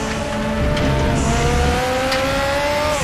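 A Group 5 Zakspeed Capri turbo race car in RaceRoom at Zolder drones loudly and steadily in third gear, its engine note sliding slowly upward as it pulls through a corner.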